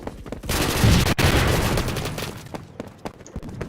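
Gunfire from the video game Phantom Forces, with sten and grease gun submachine guns: a dense, loud burst of rapid automatic shots with heavy booms, fading into scattered single reports and clicks.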